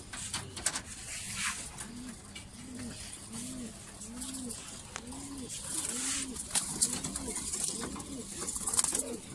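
Pigeons coo in a steady repeating rhythm close by, one soft rolling call about every second, with faint rustling and scattered noise around them.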